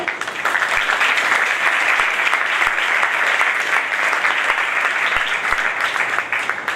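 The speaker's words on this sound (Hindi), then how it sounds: "तो पहले हम अपने इन दोनों भाइयों के लिए तालियां बजाएं" A church congregation at a first-anniversary service in Karachi applauds strongly and continuously, a loud, close wash of clapping with a few faint thumps beneath.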